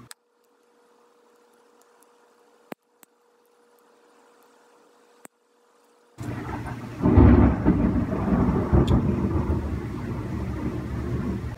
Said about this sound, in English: we have a serious thunderstorm going on right now, so if you hear crashing and booming